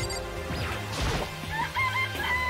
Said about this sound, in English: It's a chicken. It's not gonna, like, lay a bomb, is it?